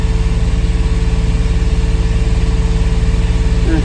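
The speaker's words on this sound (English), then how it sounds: "the engine seems to be running okay" A boat's engine runs steadily after hours of use following a cleared sea strainer, a loud, close, even idling drone with a low throbbing pulse and no voices over it.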